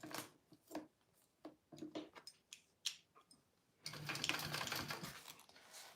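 A sewing machine top stitching along the zipper of a vinyl bowler bag, first in short separate bursts of clicking stitches, then a continuous louder whirring run of stitching toward the end, with no talking.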